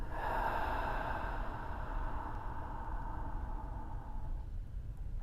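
A long, deep breath out during meditation, close and breathy, fading steadily over about four seconds into quiet with no talking.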